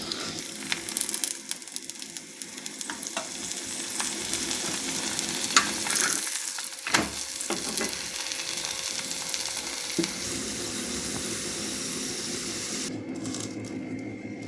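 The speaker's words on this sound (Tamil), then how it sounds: "இது ஒரு பக்கம் வெந்துருச்சுங்க. திருப்பி போட்டிருக்கேன்." Coconut opputtu flatbread frying in a pan, a steady soft sizzle close by with occasional light scraping and clinks from turning it, no talking.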